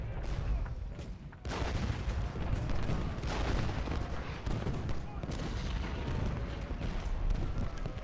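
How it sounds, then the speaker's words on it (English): Booming cannon fire and crackling musket volleys from a Civil War battle in the strategy game Ultimate General: Gettysburg, heavy thuds and rolling rumbles under a dense layer of gunfire throughout. "Let's get some artillery into position."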